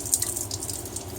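Tap water runs from a lab faucet onto a syringe, a brief hissing splash with small uneven spurts over a steady rush.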